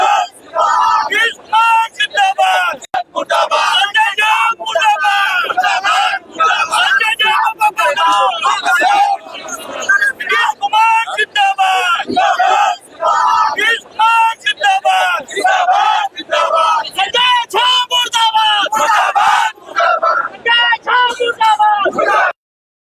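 An angry protesting crowd at a political demonstration shouts slogans in loud, dense, continuous chanting and yelling that fills the whole stretch, with many voices overlapping close by.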